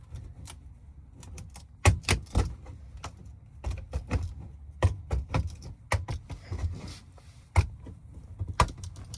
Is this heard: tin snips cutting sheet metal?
yes